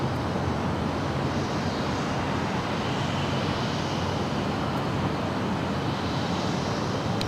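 A jet airliner rumbles at Los Angeles International Airport, a broad steady roar of engine and air noise holding at a constant level throughout, without voices.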